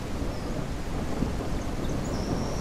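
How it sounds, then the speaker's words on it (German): Raindrops patter steadily in the video game Junkyard Simulator while thunder rolls in a low, continuous rumble beneath the hiss of the rain, with no talking. "Waren das die Regentropfen?"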